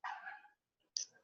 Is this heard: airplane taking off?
no